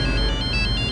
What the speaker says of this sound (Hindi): करण का फोन।